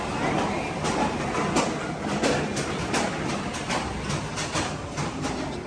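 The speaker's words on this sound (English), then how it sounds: "Sending a test train." An empty test train runs on a Superman roller coaster at Six Flags Fiesta Texas, giving a steady rumbling, clattering roll with brief rattling bursts, heard at moderate distance through continuous park background noise.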